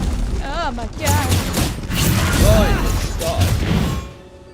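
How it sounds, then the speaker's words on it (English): Rocks crashing down in the video game Genshin Impact make heavy, booming thuds and rumbling impacts across several seconds, heard under a person's excited talking. "There are rocks falling here!"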